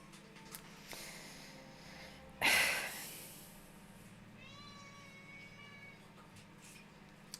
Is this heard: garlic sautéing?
no